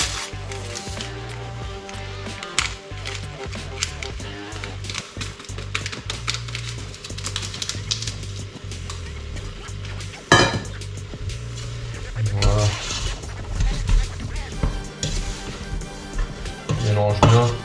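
Apples for a homemade compote being stirred with sugar and vanilla sugar in a pot: a steady run of spoon scrapes and clinks against the pot, close and busy, getting louder near the end.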